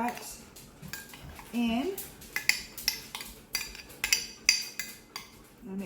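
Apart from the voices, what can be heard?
adding mashed pumpkin or sweet potato to a mixing bowl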